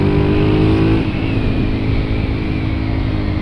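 Small 125cc motorcycle engine revving nearby, with a loud, steady buzzing drone that holds high before settling into a rough, slightly lower idle-like hum.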